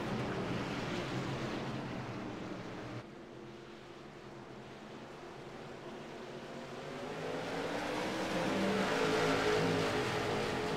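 Race cars in the iRacing NAVSCAR Touring Series pull away as the pace car leaves, a steady broad engine roar that swells louder toward the end, with no talk.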